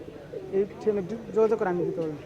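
Soft pigeon coos rise and fall under nearby talking at a pigeon market, a few short calls close by.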